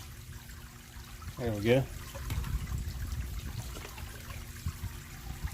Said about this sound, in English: let me go ahead, plug my extension cord into my pump